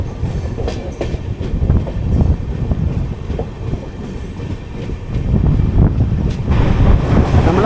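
22616 Intercity Express with new LHB coaches running from Coimbatore toward Tirupati, rumbling and rattling along the track, with rhythmic wheel clatter and wind buffeting growing louder toward the end.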